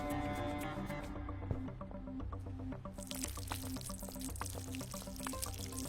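A glugging pour of water in the video game Schedule 1, a steady liquid stream over constant game music, continuous for several seconds with no talking.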